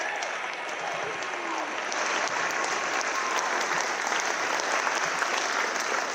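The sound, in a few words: applause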